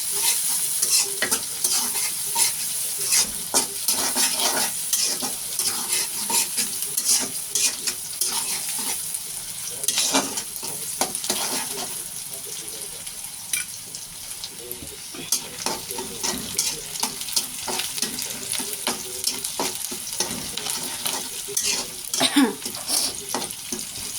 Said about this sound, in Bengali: তো পেঁয়াজটা আমি ভালোভাবে ভেজে নেব তেলের উপরে।